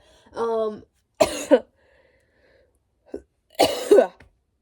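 A few harsh smoker's coughs in separate bursts, close and fairly loud, with quiet pauses between them.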